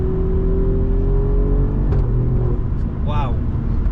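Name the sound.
Alfa Romeo Giulia Quadrifoglio engine on upshifts while accelerating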